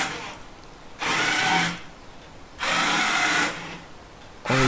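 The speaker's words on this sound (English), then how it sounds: "This is just to show how this application can be used to control a DC motor." A small DC motor controlled from a Raspberry Pi app whirs in two separate bursts of about a second each, with a third start at the end and quiet between runs. No talk.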